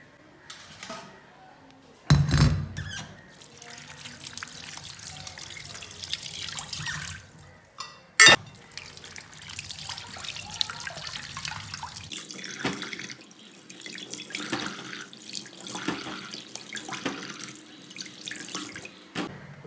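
A peeled mango is rinsed under a running kitchen tap. Water splashes unevenly, starting and stopping, with a couple of sharp knocks against the sink along the way.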